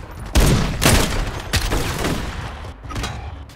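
Heavy gunfire cracks in a sniper game, four or five loud sharp blasts in close succession with rumbling tails, ringing out over constant game noise.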